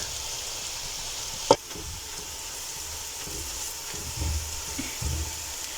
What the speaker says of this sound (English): So I will let my spices cook for about a minute